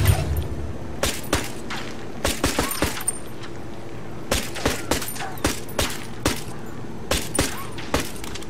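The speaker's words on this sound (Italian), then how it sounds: "non sente che gli stiamo sparando" Gunfire in the Ghost Recon video game as players shoot at a vehicle's tyres: sharp, loud shots in short irregular bursts, roughly twenty cracks spread over several seconds.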